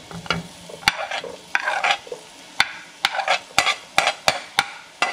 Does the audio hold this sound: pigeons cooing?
no